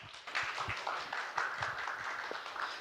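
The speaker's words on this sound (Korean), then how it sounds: "여러분 다시 한번 큰 박수 부탁드리겠습니다." An audience claps at a community media solidarity launch ceremony and forum in Gyeonggi, a steady patter of many hands at moderate distance filling the whole stretch without speech.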